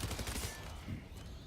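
A machine pistol fires in the shooter game The First Descendant, giving a dense, continuous rattle of rapid shots throughout, close and loud with a voice mixed in.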